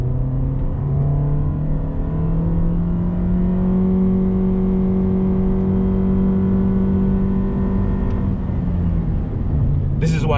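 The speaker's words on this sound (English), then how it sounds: "But listen to the CVT." A 2019 Toyota Yaris 1.5G with a CVT accelerates, and its engine holds a droning tone that climbs slowly and smoothly for several seconds. The drone then eases off, and a brief knock sounds at the end.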